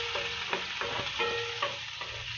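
Garlic frying in hot oil in a pan, a close steady sizzle broken by repeated stirring scrapes of a spatula roughly every half second.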